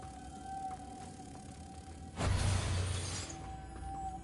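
A Confringo blasting curse in a Hogwarts video game bursts out as a sudden shattering blast that rings for about a second over a quiet, humming game ambience.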